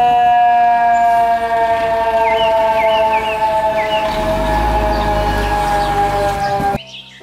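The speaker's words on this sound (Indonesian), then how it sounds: "Mobil truk pemadam kebakaran." A toy fire truck's electronic siren wails in a loud, continuous tone with chirping overtones, then cuts off abruptly near the end.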